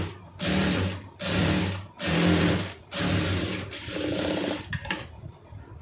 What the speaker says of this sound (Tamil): அப்படியே படிமானமாக ஒரு தையல் போட்டுருங்க